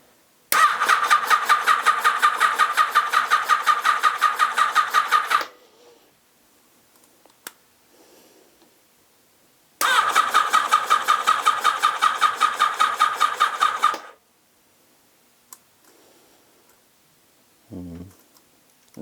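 A Yamaha XJR1300 motorcycle engine is cranked twice by its starter, each time a steady rapid whirring churn of about five seconds that fails to catch, with quiet pauses between the attempts and a brief low thump near the end.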